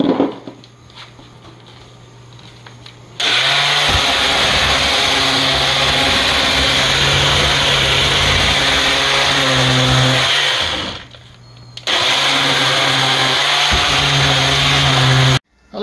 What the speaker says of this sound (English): I attach this one, and I'm going to now sand it.